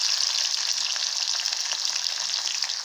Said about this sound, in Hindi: थोड़ा सा कोथमीर, थोड़ा भून लेंगे।